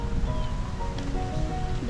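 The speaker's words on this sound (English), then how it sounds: "The ocean is right there." Ocean surf rolls in close by at a botanical garden on the coast, a steady loud wash of waves with rustling wind and no pauses.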